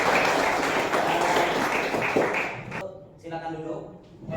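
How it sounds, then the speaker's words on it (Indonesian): Students in a classroom clapping, a loud burst of applause for a few seconds that fades out, followed by a voice speaking. "Tepuk tangan dulu."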